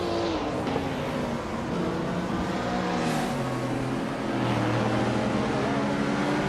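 A classic 1970 Plymouth Barracuda race car drones through a racing video game, its engine holding a steady loud tone that sweeps down and climbs back up as it shifts, with other cars faintly mixed in.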